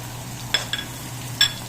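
Garlic being sautéed in hot oil in a wok before onions go in, a soft steady sizzle with a few sharp crackling spits and stirring scrapes, close and alone.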